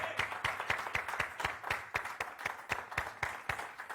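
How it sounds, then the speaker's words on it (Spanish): A church congregation at a Spanish-language service claps together in a quick, even rhythm, sharp regular beats repeating throughout at moderate loudness. "Dele un aplauso al Señor"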